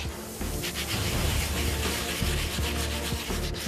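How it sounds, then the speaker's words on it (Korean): Steady abrasive rubbing of sandpaper over old pine wood, wet sanding with water, continuous back-and-forth scraping at close range with no pauses. "물로 닦아가며 사포질을 해야 한다"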